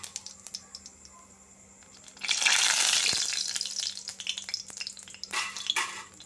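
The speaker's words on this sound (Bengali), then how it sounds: "এবার আমি কড়াই গরম করে সামান্য একটু সাদা তেল দিয়ে দিয়েছি, তার মধ্যে একটু জিরে ফোড়ন দেব।" Cumin seeds dropped into hot white oil in a kadai, a faint quiet start then a sudden loud crackling sizzle that settles into steady popping with scattered sharp crackles.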